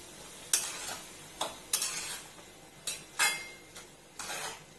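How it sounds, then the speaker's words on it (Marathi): Moth beans with salt being sautéed in a pan, with about six distinct scraping stir strokes at a steady, unhurried rhythm over a faint sizzle. No voices. "चवीनुसार मटकीमध्ये थोडस मीठ टाकून घेऊ आणि हे छान पैकी परतून घेऊ।"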